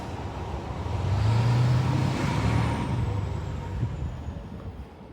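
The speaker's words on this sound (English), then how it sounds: "Here goes our bus." A New Jersey Transit bus pulling up at Union Hill Road Park in Monmouth County, a low engine rumble swelling nearby then easing off amid steady traffic noise.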